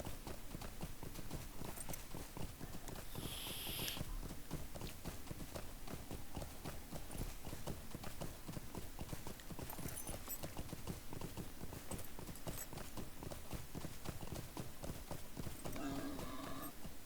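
Horse hooves gallop in the online game Lord of the Rings Online, a steady rapid clip-clop rhythm running continuously and fairly close, with occasional brief game effects over it.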